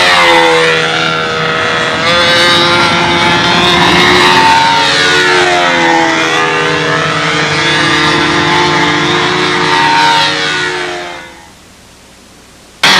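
Model jet aircraft fitted with a Jet 50 turbine engine, a loud sustained whine with sweeping harmonic tones rising and falling for about eleven seconds before cutting off abruptly into near silence.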